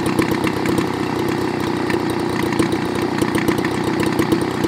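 A Homelite Bandit handheld leaf blower, an older unit with a broken-off adjustment screw tip, idles very low with a steady, loud, rough putter that runs unbroken and close by.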